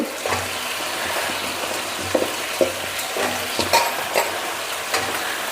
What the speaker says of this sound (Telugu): ఇప్పుడైతే మష్రూమ్స్ వేసుకుందాం కడిగి శుభ్రం చేసి పెట్టుకున్న మష్రూమ్స్ అండి